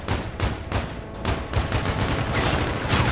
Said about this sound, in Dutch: Wat is dit voor wapen? Kijk. Het Karma 45.